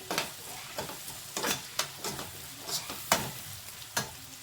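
Paneer and egg being fried and stirred in a pan for paneer egg curry, with a steady sizzle under repeated scraping strokes of a spatula at an uneven rhythm, close and alone without any talk.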